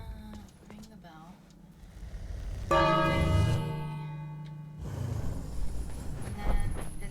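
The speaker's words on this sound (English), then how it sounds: "Ring the bell" A bell in the King's Quest video game rings once loudly, sustaining a resonant metallic tone for about two seconds before fading, with game ambience around it.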